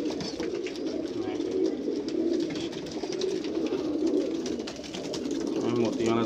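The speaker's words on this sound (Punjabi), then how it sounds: "ਗੋਲਡਨ ਕਬੂਤਰ ਹੈ ਜੀ" Golden pigeons cooing among a mixed flock of fancy pigeons, a dense, continuous murmur of low coos close by, with a voice talking over them.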